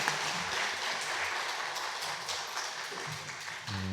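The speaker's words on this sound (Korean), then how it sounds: "인사할 때 힘찬 격려 박수 부탁드립니다" Steady applause from a large church congregation fills the room, a dense wash of clapping that continues for a few seconds.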